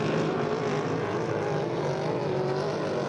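A Hydro350 racing hydroplane roars through a turn during a St-Félicien race, its engine a loud, sustained drone close by, with no break in the noise.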